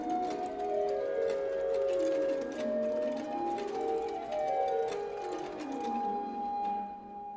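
Middle voices of Bach's organ chorale prelude BWV 607, Vom Himmel kam der Engel Schar, played alone: a sustained, flowing keyboard line with continuous rising and falling runs, moderately loud and without any talking.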